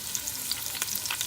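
Garlic, lemongrass and kaffir lime leaf fry in a pan with a steady bright sizzle and small crackles, close and moderately quiet.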